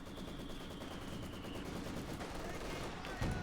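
Machine gun fire crackles through a Company of Heroes 2 battle, a dense, steady rattle of distant shots continuing under a commentator's voice.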